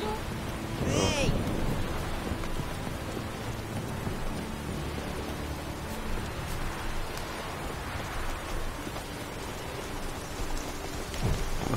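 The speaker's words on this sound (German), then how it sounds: "schon wieder Regen?" Steady rain in the video game The Witcher 3: Wild Hunt hisses across the whole stretch, with low rumbling underneath and a brief rising whistle-like tone near the start.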